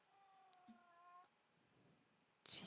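A cat meows once with a tonal, drawn-out call, quiet and close, followed by a short pause and then a brief loud noise burst at the end.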